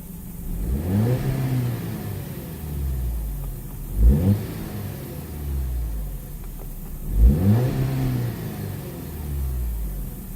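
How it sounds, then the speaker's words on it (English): Engine of a 2010 Audi A5 Cabriolet revved while parked: three deep rising-and-falling blips spaced a few seconds apart over a low idle rumble, close and without talk. "Let's go ahead and rev up the engine,"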